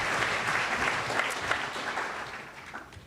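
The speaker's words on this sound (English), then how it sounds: "Let's give all of these track athletes another round of applause" Audience at a sports awards celebration applauds track athletes, a steady wash of many hands clapping that gradually thins toward the end.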